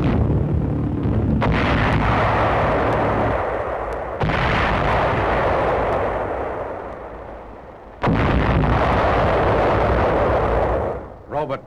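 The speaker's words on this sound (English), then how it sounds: "Nazi V-bomb over Antwerp." V-bomb explosions over Antwerp in a 1944 wartime newsreel: loud, sustained roaring blasts that swell and fade, with sharp new detonations breaking in twice, filling the whole stretch.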